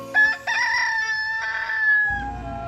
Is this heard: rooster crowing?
yes